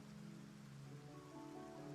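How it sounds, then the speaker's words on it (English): Steady rain falls outside, a continuous soft hiss of drops on a surface that holds even throughout, with no talking. "that's the rain Oh no, outside."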